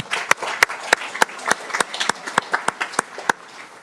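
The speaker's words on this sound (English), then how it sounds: "Let's give a round of applause." A scattered round of clapping fills a Daly City council chamber during a special meeting, uneven sharp claps from a small group in the room, moderately loud and lasting a few seconds without speech over it.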